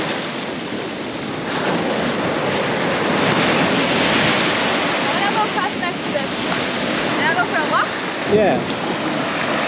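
A steady wash of ocean waves at high tide rolls onto a tropical shore, with wind buffeting the microphone throughout and a brief spoken word near the end.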